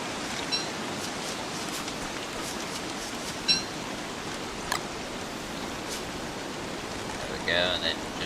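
Steady rain in the survival video game Don't Starve, a soft continuous hiss across the whole stretch with a few faint chirps and ticks scattered on top.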